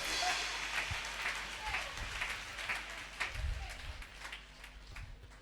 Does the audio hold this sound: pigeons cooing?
no